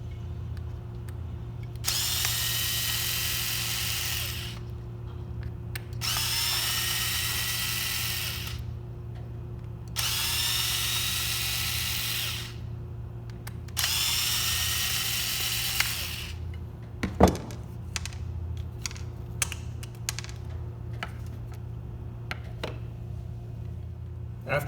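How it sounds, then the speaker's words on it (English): Four bursts of a power drill driving out screws from a receiver box on an Element Enduro RC crawler, each a few seconds long with pauses between, then small clicks and handling noises as the parts are set aside; steady motor hum underneath. "you're going to want to take out the 4 screws holding your receiver box"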